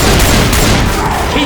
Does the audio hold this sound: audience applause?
no